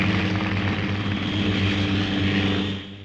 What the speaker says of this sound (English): it uses compressed air from its junior jet engine to revolve the rotor